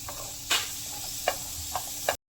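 Onions roasting in a pan for masala karela until reddish: a soft steady sizzle broken by four distinct scraping stirs of a spatula against the pan, then abrupt silence.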